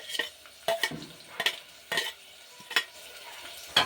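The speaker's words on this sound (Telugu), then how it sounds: "ఆనియన్స్ అయితే గోల్డెన్ బ్రౌన్ కలర్ వచ్చేదాకా మంచిగా ఫ్రై చేసుకోవాలి" Thinly sliced onions frying for mutton masala, with a utensil scraping and stirring the pan in repeated strokes over a soft sizzle, close and alone with no talk.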